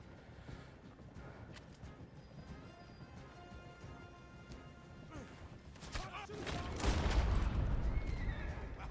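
Gunfire in the Red Dead Redemption video game, sporadic sharp cracks under a busy game mix with hoofbeats and voices, swelling into a louder burst of shots and an explosive crash near the end.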